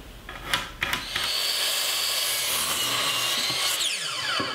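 A saw cuts through a wooden 2x4 at a 22-degree angle for a top bar beehive leg, with a few sharp knocks at the start followed by a continuous, close rasping cut.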